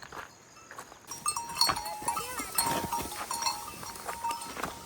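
Goats grazing in a forest, with several bleats and calls rising over a quiet outdoor background, intermittent and moderately close, with no talking.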